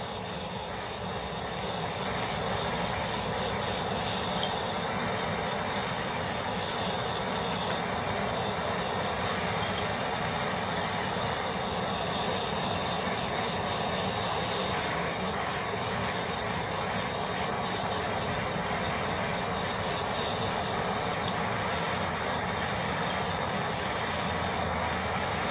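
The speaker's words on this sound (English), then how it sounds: "We are using MAP gas because that is going to create proper heat." A MAP gas torch heats a metal-casting melt dish, producing a loud, steady, unbroken roar that stays constant from start to finish.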